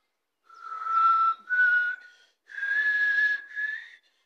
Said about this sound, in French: Le 17e exercice est celui du sifflement en montée et descente.